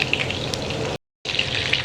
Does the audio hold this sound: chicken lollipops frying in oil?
yes